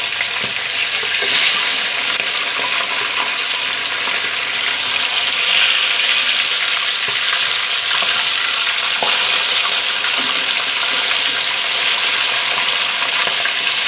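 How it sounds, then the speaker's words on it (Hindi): Chicken pieces fry in a pan with a steady, close sizzle and crackle, with occasional stirring and tapping and no talk. "दो पीस करके फ्राई करेंगे। एक साइड से फ्राई हो गया, हम इसको पलट लेते हैं।"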